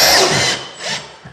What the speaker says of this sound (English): when you're setting your drywall screws into your plasterboard, you only want them to go into the surface